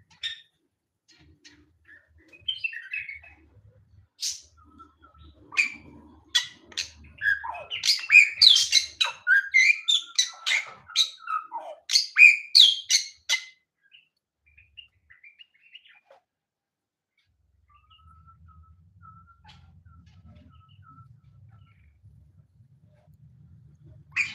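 Weaver birds chirping in a simple aviary during morning nest building, a burst of bright, rapid tweets and calls clustered in the middle, close and clear, tapering to sparse chirps and a low background hum.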